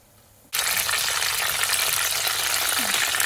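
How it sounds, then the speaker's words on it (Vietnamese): Bánh gối pastries dropped into hot oil, the frying starting abruptly with a loud, steady, bright hiss and crackle that continues close up without a break. "Mình chiên cho nó vàng vậy thì mình vớt ra được rồi."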